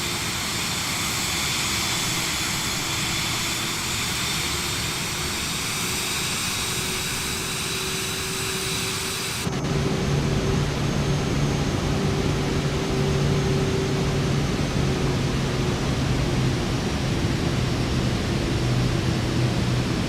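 Cirrus Vision Jet in Microsoft Flight Simulator 2024 climbing out, a smooth broadband jet roar with steady whining tones that shifts abruptly to a deeper, louder cabin drone partway through, continuous with no talk.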